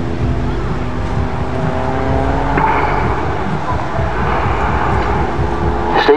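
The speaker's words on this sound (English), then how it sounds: "Characteristic sound that comes from the Pitts metal propeller." A Pitts aerobatic biplane with a metal propeller performs at an air show with a loud, buzzing engine-and-prop drone, its harmonic tones shifting as it climbs and rolls. The drone continues steadily from a moderate distance.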